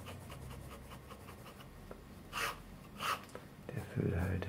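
A Rotring school fountain pen with an iridium-tipped nib writes on paper under pressure, giving faint close-up scratchy strokes in a steady rhythm, with a couple of louder rustles near the end.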